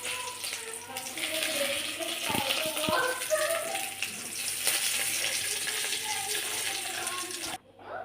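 Chopped papaya being rinsed under running kitchen tap water for a papaya thoran, a steady splashing stream with brief clunks and stirring, and a faint voice or tone in the background, cutting off abruptly at the end.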